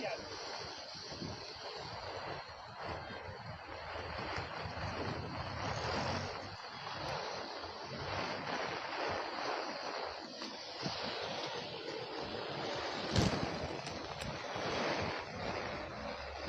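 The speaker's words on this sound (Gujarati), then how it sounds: "જોરદાર પવન સાથે વરસાદ" Steady roar of heavy wind-driven rain in Vadodara fills the whole clip, dense and continuous, with gusts swelling and a brief sharper burst near the end.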